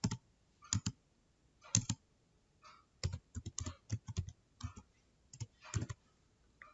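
Keys on a computer keyboard click in uneven bursts while someone enters an average formula in GraphPad software, quick clusters of taps separated by short pauses, close and fairly quiet.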